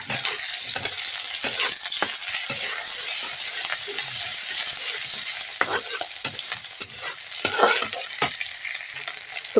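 Bay leaf, onion and spices sizzle steadily in leftover oil in a pan, a constant hiss broken by scraping and stirring clatters, close and without talk.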